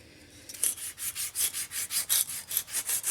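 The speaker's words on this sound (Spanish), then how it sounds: "es pegarle una lijada" Sandpaper rubs back and forth on an alternator shaft, making a steady rhythm of about a dozen short, bright scraping strokes, close and fairly quiet, with no talking.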